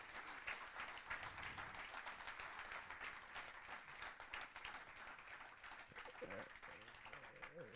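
An audience at an evening conference on Armenia one year after the war applauds the speakers, a dense, continuous wash of clapping that holds steady throughout at a modest level.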